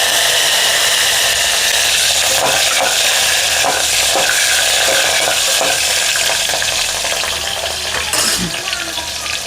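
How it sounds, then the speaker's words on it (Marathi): Green chillies and curry leaves drop into hot oil with cumin seeds, setting off a loud, steady sizzle and frying crackle with occasional stirring clinks; no voices. "जिरा लाल झाला काय तर लगेच ही मिरची टाकायची हिरवी."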